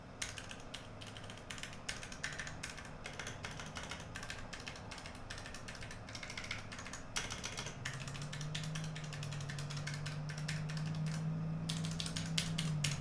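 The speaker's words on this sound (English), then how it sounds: "This is the Ducky One 2 Mini. This is with the reds." Ducky One 2 Mini mechanical keyboard with Cherry Red switches being typed on, a quick continuous stream of close, light clacks with an even rhythm and no talk.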